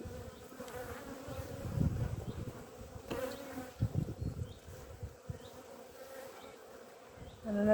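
Honeybees buzzing around open beehive frames outdoors, a continuous soft droning hum with individual bees swelling louder as they pass near.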